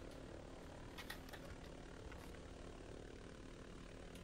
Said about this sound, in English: Why do I hear a chopper?